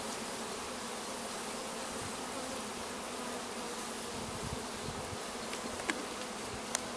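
Honey bees swarm around an opened hive during a Bailey comb exchange, giving a dense, even buzzing that stays at a constant level close by, with a couple of faint clicks toward the end.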